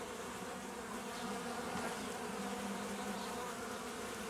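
Honeybees swarm around a hive frame during work on a queenless nucleus colony, giving a dense, steady buzzing hum that stays loud and close throughout with no voices.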